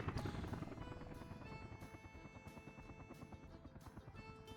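Helicopters arriving in the game Workers & Resources: Soviet Republic, a steady rhythmic rotor thump with a droning engine tone that starts louder and settles to a continuous moderate beat.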